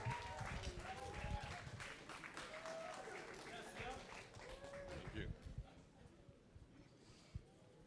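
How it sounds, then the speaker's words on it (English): Wedding reception guests at a golf course applaud as the best man is welcomed up to toast, with dense clapping, faint and somewhat distant under voices and chatter, fading over the final seconds. "let's give him a round of applause and keep that applause going"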